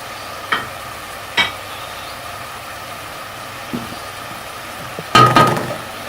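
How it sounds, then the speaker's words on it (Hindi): A spoon stirs tinda (round gourd) frying in masala with crushed red chilli, giving a few sparse, soft scrapes and clicks, then a short louder burst of sizzle near the end, with no talking. "पाँच से 10 मिनट हम इसको इस मसाले में टिंडों को भूनेंगे"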